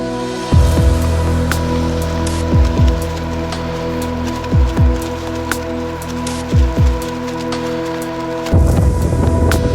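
Heavy rain falls during a long-distance bicycle tour in Belarus, a loud continuous wash of patter broken by recurring short whooshing bursts every couple of seconds, with no speech.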